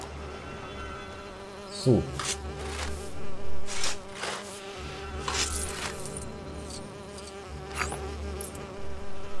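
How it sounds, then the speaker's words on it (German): Bees buzz in Lego The Lord of the Rings, several insect drones swelling and fading close by over a low game hum, mixed with brief clattering effects and a short spoken word. "Fette Bienen, aber wirklich fette Bienen."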